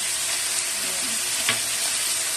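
A steady, close sizzle of food frying in a pan until golden brown, with a light scrape of stirring partway through.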